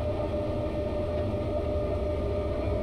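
Steady rumble of a train in Train Simulator Classic, a SimExpress BB 36300 locomotive, a continuous low rolling drone with a faint hum on top.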